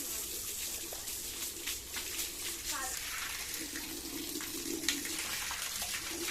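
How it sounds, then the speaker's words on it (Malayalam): Water poured and splashing while a cow is washed, a soft running gush with intermittent splashes, faint and close, with a voice speaking over it. "അപ്പം നമ്മൾ ഇവിടെ വെള്ളം ഒഴിച്ച് കഴിഞ്ഞേക്കും"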